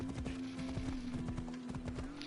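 Horse hooves clip-clop at a brisk, regular trot in Assassin's Creed Odyssey, close and crisp over a steady background tone, with no speech.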